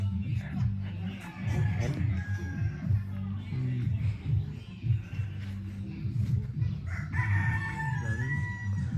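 Roosters crow repeatedly among penned farm chickens in a rural village near the Vietnamese border, the calls fairly close and rising over steady clucking while someone talks throughout.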